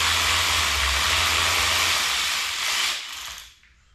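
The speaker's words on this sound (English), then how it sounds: "now we finna get ready to pull this motor out for the first time ever" Loud, steady whirring and ratcheting mechanical noise close by while the engine is pulled out of a 2018 Yamaha YZ125 dirt bike, running continuously for about three seconds before dropping away to quiet.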